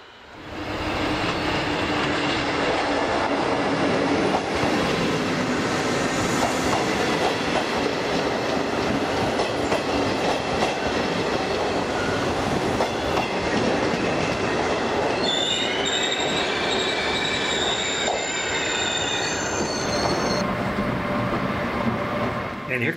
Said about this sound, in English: And here comes another freight train.